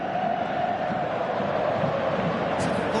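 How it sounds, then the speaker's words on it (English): Crowd noise from a PS4 football video game, a steady wash of stadium roar with faint chanting and swells, holding at a moderate level throughout. "you can feel and hear how the crowd are reacting to all of this"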